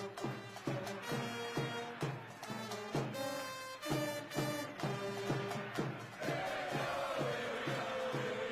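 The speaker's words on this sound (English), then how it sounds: "give us a rapturous round of applause for the main man, Lee Anderson." A large crowd at a Reform UK political rally in Chester claps and cheers, with loud, sustained applause and shouts swelling over rhythmic music that is also playing.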